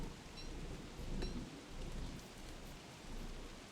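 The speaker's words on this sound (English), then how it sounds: "It's raining so hard." Heavy rain pours down in the video game What Remains of Edith Finch, a constant hiss with low rumbling thunder swelling and fading under it, a faint crack near the start.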